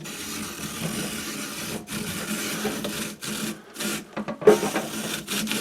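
A hand-cranked apple peeler and corer grinds and rasps through an apple in uneven bursts, with short pauses between strokes of the crank, close and fairly quiet.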